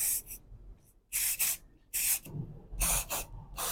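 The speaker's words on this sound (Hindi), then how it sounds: "और अब हम स्प्रे कर देंगे, सैवलॉन स्प्रे कर रहे हैं।" Savlon spray is sprayed onto styled hair in four or five close, hissing bursts with short pauses between, some as quick double pumps.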